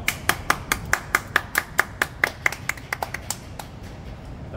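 Crisp, evenly spaced hand claps ring out close by, roughly twenty in a steady rhythm that slows and fades toward the end, over a quiet background.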